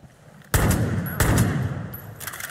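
Two heavy Desert Eagle pistol shots in Far Cry 5, each a sharp loud blast with a long rumbling tail, spaced under a second apart, with a third burst starting near the end; no talking.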